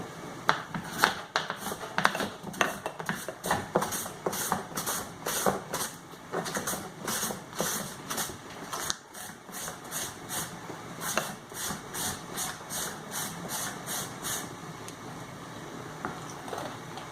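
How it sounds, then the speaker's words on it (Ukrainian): Carrot rubbed against a Korean-style carrot grater in a steady, quick rhythm of scraping strokes, close and fairly loud, continuing without a break and with no talking. "Морку натримо на терці для морковки по-корейськи"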